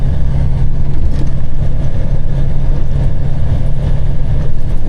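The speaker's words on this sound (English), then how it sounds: "So northbound, sounds like this next Oversize is heading towards us." An oversize-load truck on a highway heading north toward the listener, a steady loud heavy engine rumble with deep low drone continuing throughout without a break.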